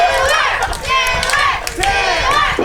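Wrestling arena crowd cheering and shouting at an Xtreme Warfare show, a loud, sustained roar with surging chants and yells that swell in waves throughout.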